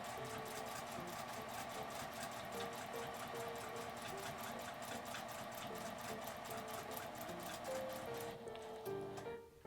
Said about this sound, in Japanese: 最初は直線で、印のとこまで来たら方向を変えて縫います。